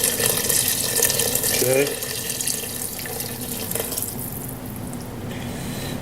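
Hot water from a tap pours and rushes loudly into a pan for enchilada sauce, then drops to a softer steady flow, with a brief spoken word over it.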